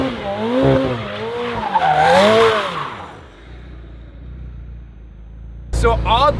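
Tires of a rebuilt McLaren squeal on a dyno in wavering, pitch-bending screeches for about three seconds, then fall to a low engine rumble before a sharp burst of squeal returns near the end.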